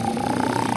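A voice imitating a T-Rex snoring, a low, rumbling, growly drone held steadily and close for under a second.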